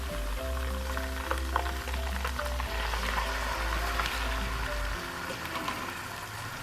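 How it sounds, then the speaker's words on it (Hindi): Chicken frying in a karahi for chicken karahi gosht: a steady, dense sizzle with a low hum beneath it, fairly close and continuous throughout, with no voices. "इसको थोड़ी देर पका लिया, अब हम इसमें चिकन डालेंगे"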